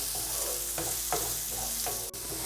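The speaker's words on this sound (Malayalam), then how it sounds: "ഇത് ഇത്രയും ചേർത്ത് കൊടുത്തതിന് ശേഷം വീണ്ടും നന്നായിട്ടൊന്ന് വഴറ്റി കൊടുക്കണം" Noodle masala vegetables sizzle and fry in a pan over high flame, with a steady crackling hiss broken by several stirring scrapes and a brief clack near the end.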